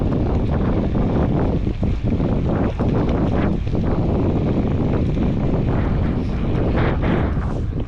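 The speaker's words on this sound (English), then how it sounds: "Bit of a headwind" Strong headwind buffets the microphone while cycling on a semi-off-road route, a loud continuous rushing roar with gusty surges throughout and no speech.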